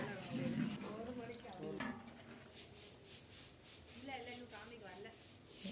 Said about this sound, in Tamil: நல்லா ப்ரௌனாக வதங்கி வருது பாருங்கள் வெங்காயம்.